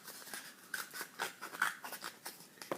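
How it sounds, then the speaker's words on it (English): Scissors snip around a cardboard tube, following a drawn line in a run of quick, close, crisp cuts that repeat steadily with no talking. "You can put the scissors in there and you just follow your line all the way around."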